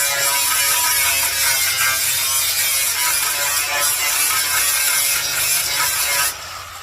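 A grinder strips black coating off the body of a 1964 Chevrolet C10 4x4 truck, giving a loud, steady, harsh whirring that runs without a break and then drops off abruptly near the end.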